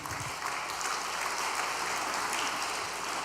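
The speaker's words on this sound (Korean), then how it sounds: "우리 강진 대교회가 더 발전하라고 격려의 박수 부탁드리겠습니다" A church congregation claps together in steady, dense applause, an even wash of many hands sustained throughout without a break.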